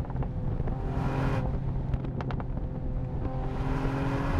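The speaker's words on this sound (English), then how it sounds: "it's really great to see an AMG again in the modern era where you can play the exhaust like that" A 2020 Mercedes-AMG GLE 53 with a flapped AMG performance exhaust rumbles steadily and loudly, with a few sharp crackles and pops in the middle of the run, all mixed with some wind noise.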